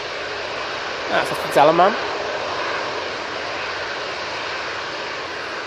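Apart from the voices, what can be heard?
EasyJet Airbus A321neo takeoff roll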